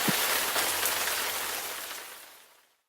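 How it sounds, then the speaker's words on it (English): Steady rain hisses on a surface, a dense even wash that fades out toward the end. "But it's still raining."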